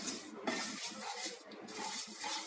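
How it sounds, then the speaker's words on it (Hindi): Semolina roasting in a pan for suji halwa, with a soft, steady scraping as a spoon stirs the grains and faint clinks of utensil on metal, quiet and close. "देखिए सूजी धीरे धीरे भुनने लगी है"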